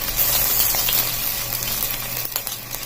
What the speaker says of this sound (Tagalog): Pag mainit na yung mantika, lagay na natin yung bangus na binalot